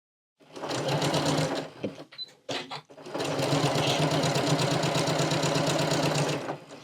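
A sewing machine stitching a fabric seam, running in a steady loud rattling burst, pausing briefly with a few knocks, then resuming in a long even run.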